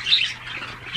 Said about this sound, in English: That's doves.